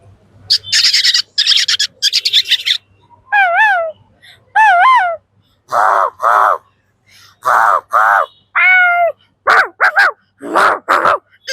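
A human voice imitates birds at a Kerala school arts festival mimicry contest: loud, close bursts of crow-like caws and warbling, whistled calls come one after another with short pauses between them.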